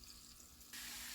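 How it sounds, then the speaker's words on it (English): Water from a kitchen tap splashes into a sink while callaloo is rinsed, starting quietly and then bursting into a louder, steady gush partway through. "rinse them off nice in fresh water"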